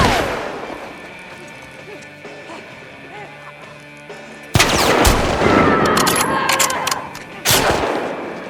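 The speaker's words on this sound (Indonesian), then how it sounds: "Mana yang nembakin kita, guys?" Gunfire in The Last of Us Part 2 starts with scattered ambient game sound, then bursts into loud, close shots and crashing impacts with another sharp volley near the end. People talk over it.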